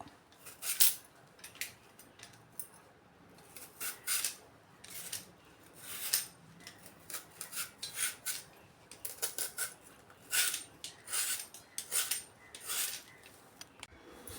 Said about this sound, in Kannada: ಈ ಥರ ಸಿಪ್ಪೆ ತೆಕ್ಕೊಂಡು ಸಣ್ಣ ಸಣ್ಣದಾಗಿ ಕಟ್ ಮಾಡ್ಕೊಬೇಕು